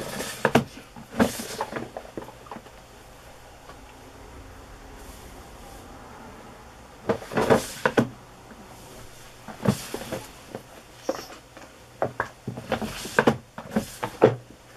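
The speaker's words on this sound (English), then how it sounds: "you're hearing me opening and closing the drawers." Sewing-room drawers of laces and trims slide open and shut beside a sewing machine, giving sharp, close wooden knocks and scrapes in several separate bursts against a quiet background.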